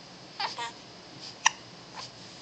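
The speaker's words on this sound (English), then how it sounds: "Hiccups cramping your style" A small child hiccups in a few short, soft bursts spread over a couple of seconds, close by in a quiet room.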